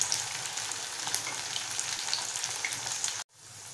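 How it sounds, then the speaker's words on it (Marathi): Sabudana vada, crispy sago patties, fry in hot oil with a steady, close crackling sizzle that cuts off sharply near the end before a fainter hiss returns. "आणि ब्राऊन रंगावरती आपण वडे तळून घेऊया।"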